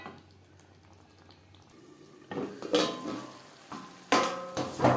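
Boiled potatoes and kohlrabi are stirred in a pan over high to medium flame, with quiet sizzling at first, then a few sharp scraping and clanking strokes of a utensil against the pan, close up.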